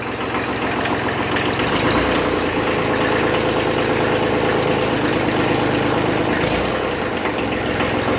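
An old 50-year-old Kubota tractor's diesel engine idles with a steady, loud, knocking chug, its rhythm wavering slightly as the revs settle.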